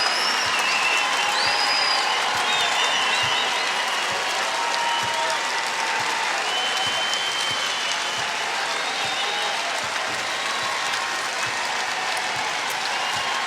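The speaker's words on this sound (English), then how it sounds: "And a standing ovation from the Zags crowd as the Bulldogs can dribble out the clock." A Gonzaga home crowd at a college basketball tournament game gives a standing ovation, a loud, dense and sustained roar of clapping and cheering that fills the arena without a break.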